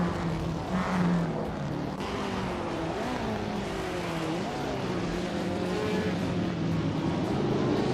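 Racing car engines, among them a 1958 Porsche 718 RSK, drone and rise in pitch through gear changes, a continuous loud mechanical whine of several cars running close together, with a faint voice in the background.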